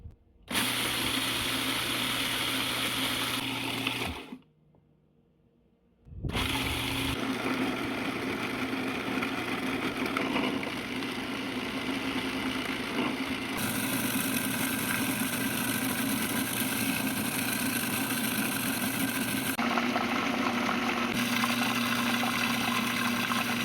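A chocolate machine grinds cocoa nibs into vegan milk chocolate, a steady loud mechanical whir with a constant hum that runs continuously, stopping briefly for a few seconds before starting up again.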